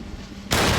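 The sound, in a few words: gun firing a shot at a target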